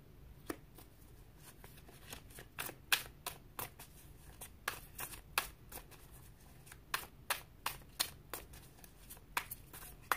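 Tarot cards being shuffled, a quiet steady run of crisp riffling snaps and flicks close up, with no talking.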